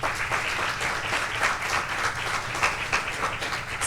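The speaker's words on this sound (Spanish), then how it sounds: "Recibamos con un fuerte aplauso al senador de la provincia de Barahona" An audience in the Dominican Senate gives a steady, dense round of applause for José del Castillo Saviñón, senator of Barahona province, the clapping sustained and even throughout with no break.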